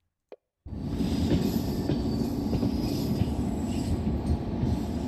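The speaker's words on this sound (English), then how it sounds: "Our train is slowly braking." A brief click, then a steady loud rumble of a train braking on rails with faint metallic squeals, continuing without talk; an Indian express train in a train simulator game.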